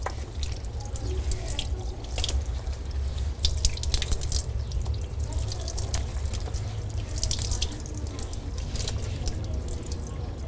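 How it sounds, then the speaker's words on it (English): Steady running water splashing and trickling in a sink while linen such as a Mackintosh sheet is rinsed after detergent cleaning, close and continuous with drips and splashes, no talk. "After cleaning with detergent, we have to rinse it thoroughly with the water."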